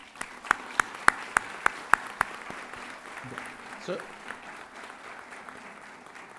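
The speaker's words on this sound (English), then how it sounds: "A little applause for them." Applause for the parents at a Champlain College Saint-Lambert graduation ceremony: a few sharp, evenly spaced claps stand out at first over a broad, steady wash of audience clapping that carries on under a brief spoken word.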